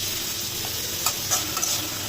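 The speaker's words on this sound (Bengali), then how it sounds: "তো আমরা চিকেন এবং চিংড়ি আর প্রথমে দিয়েছিলাম তেলের সাথে রসুন কুচি, এটা একটু হালকা ভাজা ভাজা করে নিচ্ছি" Chicken, shrimp and minced garlic fry in hot oil in a pan, a steady faint sizzle with a few brief pops and crackles, no voices.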